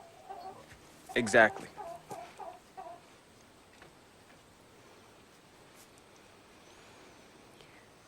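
Chickens cluck near a coop in a rural farmyard, a short burst of close clucks and a few quick repeated calls early on, then quiet, with brief speech alongside.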